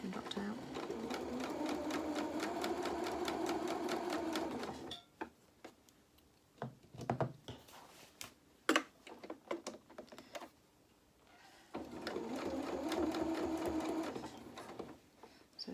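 A domestic sewing machine stitches in two fast, steady bursts of rapid mechanical ticking, separated by a quieter stretch of clicks and handling noises as fabric is adjusted under the presser foot. A voice speaks occasionally.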